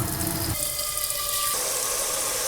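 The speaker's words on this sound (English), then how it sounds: "I have my celery cut now, so let's add some water" Tap water runs into a container for making celery juice, a steady close rush that shifts pitch partway through as the vessel fills, with no talking.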